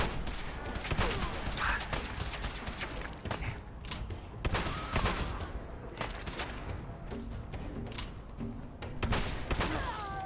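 Guns fire repeatedly during Fallout 4 VR combat, with scattered sharp shots and short bursts spread throughout, moderately faint, over a busy background of game noise.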